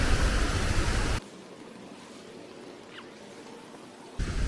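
Waterfall on a tour near Palenque, Mexico, with a path leading behind the falls, gives a loud, steady rushing roar that drops to a softer, more distant wash in the middle before surging back.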